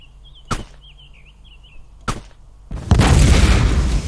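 In the video game DayZ, two sharp pistol shots crack about one and a half seconds apart, then a gas pump explodes into a loud, sustained rumbling blast that fills the rest of the moment.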